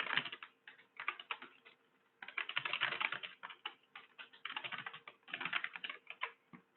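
A computer keyboard typed on in a classroom, close and clear, with bursts of rapid key clicks separated by brief pauses and no speech over it.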